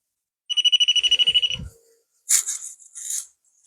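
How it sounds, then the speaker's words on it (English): A memorial ornament shaped like a teddy bear beeps when its head is touched: a rapid run of about a dozen bright electronic beeps, followed by a brief low thud and a couple of short higher chirps, with no speech. "if you touch the top of it or go near the top of it, it will actually beep"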